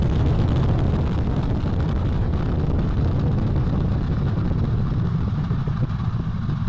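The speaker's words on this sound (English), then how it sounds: "Core stage engine start. 3, 2, 1. Boosters in ignition. And liftoff of Artemis 1." Artemis 1 launch: the core stage engines and two solid rocket boosters produce a loud, sustained, broadband rumbling roar that holds steady without pause, with no voices heard.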